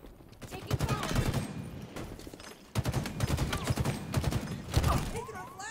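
Rapid, overlapping bursts of gunfire rattle through a ranked capture-the-flag match in Halo Infinite, close and sustained, with voices talking over the shooting.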